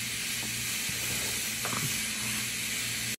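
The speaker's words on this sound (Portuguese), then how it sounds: "é panela de pressão fazer barulho no fogão" A pressure cooker on a kitchen stove hisses with a steady, loud jet of steam, joined by a low hum and a few faint knocks, then cuts off abruptly at the end.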